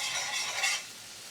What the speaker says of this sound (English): We're just going to cook it gently.